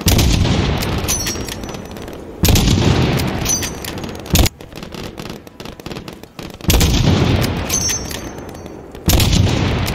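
Loud, dense gunfire and booming explosions from Call of Duty: Modern Warfare (2019), coming in heavy bursts with short quieter gaps between them and no talking over the combat.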